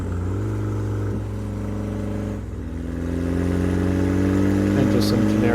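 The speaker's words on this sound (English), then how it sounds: "we're going downhill. So I have a bit of decel audio right here." Black car decelerating downhill after crossing the apex of a bridge at night, a loud low engine drone that dips briefly and then settles into a steady rolling hum, with no talk.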